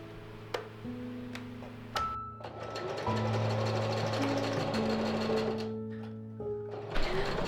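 A sewing machine runs steadily while hemming sleeves, a continuous rhythmic whir with a quick ticking needle beat, close by and alone, after a few sharp clicks at the start.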